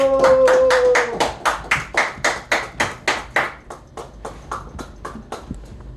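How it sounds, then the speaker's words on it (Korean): An audience applauds at the opening of a real estate lecture broadcast: a run of about fifteen sharp, evenly spaced claps that gradually fade, with a brief tone at the start. "박수."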